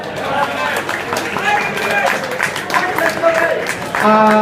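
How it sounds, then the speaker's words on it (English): Lads applaud and cheer together after a 2014 match, with claps and shouts mixed with voices for a few seconds. "So give yourselves a big round of applause, lads."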